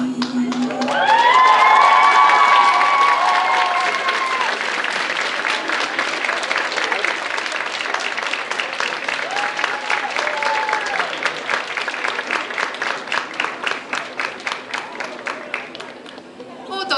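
School PlayBox event audience clapping and cheering loudly, a big burst of shouts then steady rhythmic applause sustained under scattered whoops.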